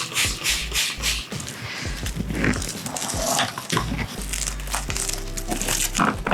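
Plastic wrap and a plastic bag crinkle and rustle while freshly dyed, speckled yarn skeins are wrapped, a steady close handling noise with dense crackles running through the whole stretch.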